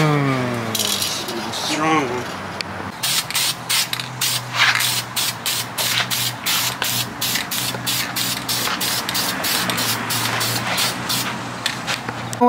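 Adhesion promoter is sprayed from an aerosol can onto a new fender of a bugeye Subaru WRX in a series of short, sharp hissing bursts at a steady rhythm, with a brief voice at the start.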